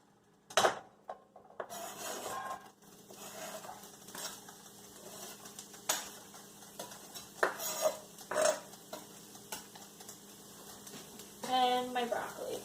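Onions and broccoli go into an oiled pan, with scattered clinks, scrapes and knocks of a utensil against the metal pan. The sounds come in irregular bursts over a quiet, faint background.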